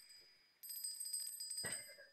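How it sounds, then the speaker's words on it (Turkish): A small ritual bell is rung as a musical instrument during a blessing ceremony, giving a few bright metallic rings with a lingering shimmer, faint and somewhat distant, captured on a rough amateur recording. "Müzik aleti, bir zil çıkardı."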